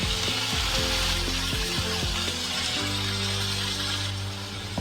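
Potato slices frying in hot oil tempering for a dry vegetable dish, a steady loud close sizzle that runs without a break, with faint stirring and no talk.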